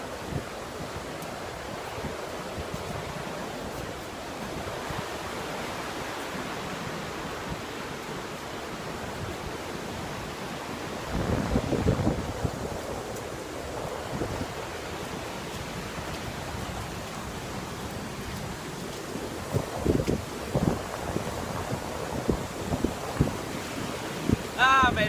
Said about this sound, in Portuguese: Aqui vai ser na cachoeira.